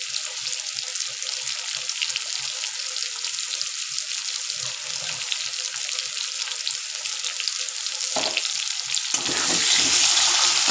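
Chicken pieces partly frying in oil in a pan for a chicken curry, giving a continuous close sizzle that swells louder and brighter toward the end.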